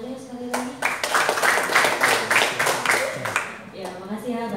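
A crowd at a seminar in Adiwerna, Tegal breaks into a burst of clapping right after a voice. It runs steadily for a few seconds, then fades as a speaker resumes talking over the last claps.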